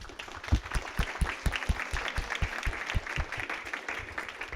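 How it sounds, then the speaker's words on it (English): Steady applause from an audience at an academic panel event, clapping continuously at moderate volume throughout. "So let's just give them a big, round of applause."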